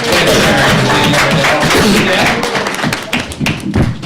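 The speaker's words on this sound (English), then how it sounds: "Let's have a round of applause for Barry." Loud, close audience applause at a quiz bowl championship, dense clapping with thumps and murmuring voices, thinning into scattered claps by the end.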